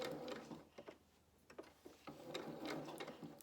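A sewing machine stitches a fabric frill for children's dungarees and shorts, giving a faint, close, uneven series of short mechanical clicks and whirring bursts, with brief pauses as the fabric is turned.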